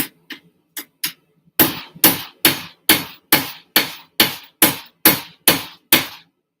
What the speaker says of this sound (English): When she's really warm, I just baby taps. The ball peen works the best because it pops it.